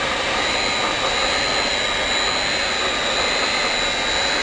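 A PVC banner welding machine running its hot air heat gun, giving a loud, steady, close rushing hiss with a constant whine and no breaks across the clip.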